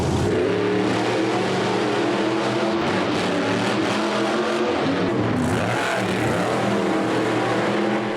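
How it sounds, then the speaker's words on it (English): Big monster trucks racing at a monster truck show in Tremonton, Utah: loud, dense engine roar with revving surges and passes, continuous and close over several seconds. "Then it was time for the big trucks to race."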